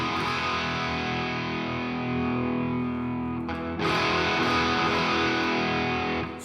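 Distorted electric guitar through a NUX MG50Li amp with drive and a steel string singer impulse response, a sustained gritty chord ringing out, briefly cut off, then restruck and held loud.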